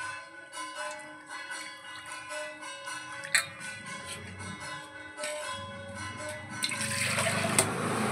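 Jackfruit seeds being washed and rubbed clean in water, a continuous sloshing and splashing that builds to a fuller, rushing wash of water near the end.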